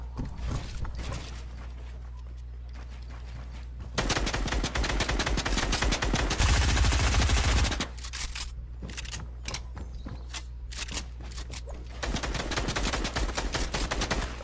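A SCAR assault rifle in Fortnite fires in rapid, repeated bursts with sharp, closely spaced cracks, including a dense stretch of continuous fire in the middle, over a steady low hum.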